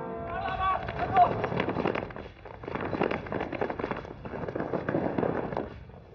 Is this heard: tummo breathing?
no